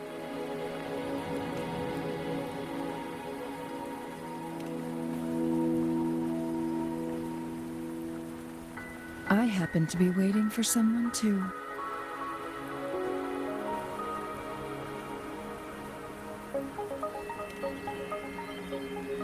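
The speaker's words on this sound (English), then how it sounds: "Don't worry, the rain won't last much longer." Rain falls steadily in the Wuthering Waves video game, a soft continuous patter beneath sustained musical tones, with a brief burst of sharper effects partway through and a voice talking over it.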